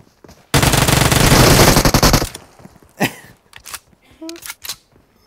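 A long burst of rapid automatic gunfire in the video game PUBG Mobile on the Livik map, loud and close, followed by a few scattered single shots and brief clicks as the ammunition runs out.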